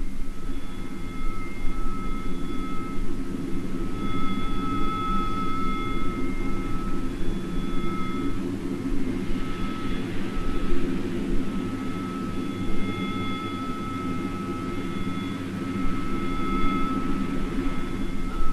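Jet fighter planes attack in the Falkland Sound in 1982, filmed through a frigate's sights: a steady, moderately loud engine roar with a high whine, swelling slightly midway as an aircraft passes, with no talk.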